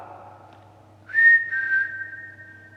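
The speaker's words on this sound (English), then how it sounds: "Whistle back." A single person whistles a short two-part call, a rising note followed by a held steady tone, fairly near and clear over a quiet room with a low hum, with no talking.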